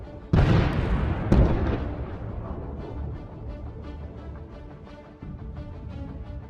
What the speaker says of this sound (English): A mine is tearing a hole in the bottom of this tank.